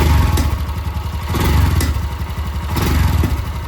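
A Royal Enfield Scram 440 motorcycle engine runs close up, a loud, steady, throbbing idle with rhythmic mechanical clatter and slight surges in level.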